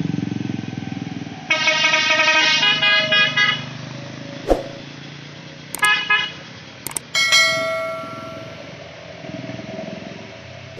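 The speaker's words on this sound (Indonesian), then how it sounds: "Truk ikan dengan knalpot serigala." A fish truck with a loud modified howling exhaust on the Kelok 44 hairpin road gives several long, tonal, horn-like blasts in bursts over steady close road and engine noise.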